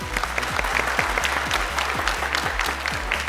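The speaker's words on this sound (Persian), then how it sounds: "هر دوشان را تشویق کنند" A studio audience on a Persian-language Family Feud game show applauds steadily, dense continuous clapping from many hands at an even level throughout, with no voices on top.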